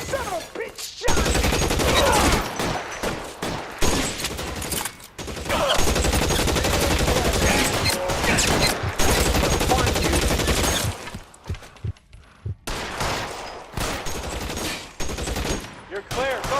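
Gunfire in L.A. Noire: loud, dense, sustained volleys of shots and machine-gun bursts fill most of the stretch, pausing briefly before resuming, with occasional shouted voices underneath.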